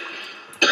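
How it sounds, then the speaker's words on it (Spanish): A woman gives a single sharp cough near the end, close and fairly loud, after a brief stretch of quiet breathy sound. "Ay, qué tos tengo."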